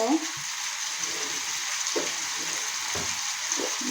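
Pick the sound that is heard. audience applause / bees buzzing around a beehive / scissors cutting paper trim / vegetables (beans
vegetables (beans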